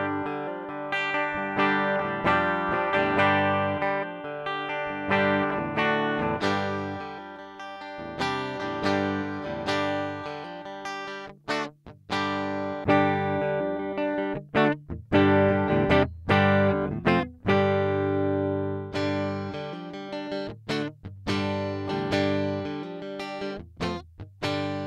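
Epiphone Les Paul Studio electric guitar played through effects pedals with distortion and chorus, strummed chords and riffs ringing out steadily, loud and close, with short stops between phrases and no talking.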